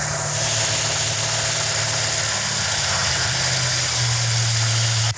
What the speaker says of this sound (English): That's a good idle right there for right now.